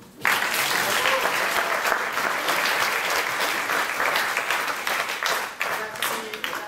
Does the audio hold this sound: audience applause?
yes